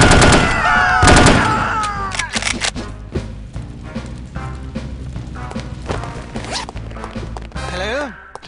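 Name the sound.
gunfire in No One Lives Forever video game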